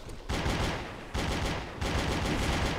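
Full-auto gunfire in Halo Custom Edition on the Survival Canyon map: dense, continuous rattling bursts fill the whole stretch, with brief breaks between three sustained volleys, loud and close.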